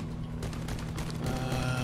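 Sustained rapid gunfire from a vehicle's weapons shooting at a bot in the combat game Crossout, a dense continuous burst at steady loudness with engine rumble underneath.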